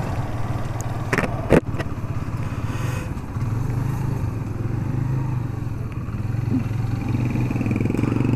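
Motorcycle engine droning steadily while riding through city traffic, a low continuous hum close by with a brief sharp knock near the start and no talking.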